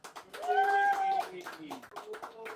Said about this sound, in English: a round of applause if you think Archie was the winner